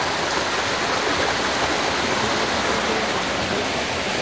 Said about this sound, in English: a hidden, unknown waterfall that we just kind of came across